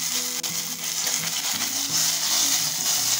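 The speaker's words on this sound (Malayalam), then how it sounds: "ഇനി ഓയിലൊന്ന് ചൂടായി വന്നാൽ അതിലേക്ക് ഇത്തിരി കടുക് ഇട്ട് കൊടുക്കും." Mustard seeds, a piece of cinnamon, red chili and curry leaves sizzle steadily in hot oil for a green peas curry tempering, a loud continuous frying hiss with occasional stirring sounds.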